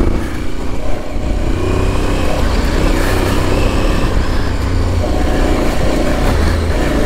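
A 2022 Aprilia Tuareg adventure motorcycle rides along a wet dirt route, its engine droning loudly and continuously with heavy wind and road rush, close and unbroken throughout.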